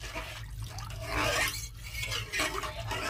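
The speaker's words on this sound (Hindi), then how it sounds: "अब इसको हम बढ़िया से चला लेंगे।" Salted mixed-vegetable khichdi is stirred in a pot, a spoon scraping and rasping against the bottom and sides in uneven strokes, with a steady low hum beneath and no talking.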